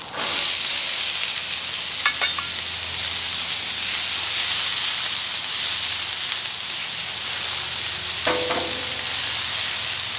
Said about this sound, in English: a little bit of oil on the flat top. Again, folks, if you want, you could do this in a cast iron pan. And we're going to get those onions on there.